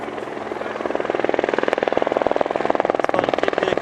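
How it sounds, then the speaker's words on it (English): A helicopter flies over a tarmac rally stage in Perth, Western Australia, its rotor thudding in a steady fast chop that grows louder and closer, with crosswind in the air. "chopper's coming back"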